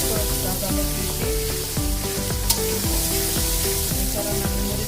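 Whole cardamom pods and black peppercorns fry in hot oil, a steady loud sizzle crackling close by with occasional stirring clinks for garam masala prepared for a country chicken and new potato curry.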